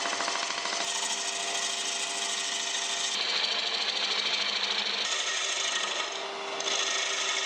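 A wood lathe turns a glued-up wooden football, producing a steady whirring, rasping scrape of the spinning piece with slight shifts in tone as the cut changes, with no talking.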